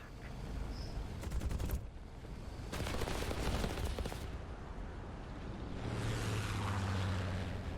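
A Bf 110 G-2 fighter going down in flames in War Thunder VR simulator: steady engine and propeller drone with rattling bursts of machine-gun fire early on, then a sustained rumble as the plane falls.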